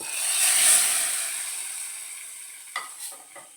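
Mustard seeds and a chili fry in hot oil as tempering for a bitter gourd curry. A loud, close sizzle slowly fades, then a few small pops and stirring clicks follow.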